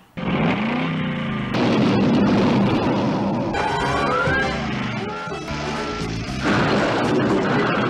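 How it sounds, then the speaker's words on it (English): Booming explosion effects from a G.I. Joe MASS Device toy review: heavy crashes and rumbling blasts that stay loud and dense for several seconds, with layered impacts and a few sharp transients. "Also, Duke, I think they're all dead judging from that explosion"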